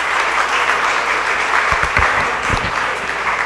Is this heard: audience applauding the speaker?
yes